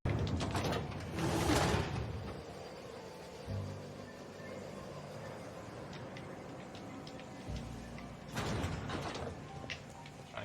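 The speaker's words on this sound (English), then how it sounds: "That door closed, I could get close." Mechanical door closing in the Resident Evil 3 demo video game: grinding, sliding mechanism noise with creaks and clanks, a louder burst at the start and again near the end, with low rumbling in between.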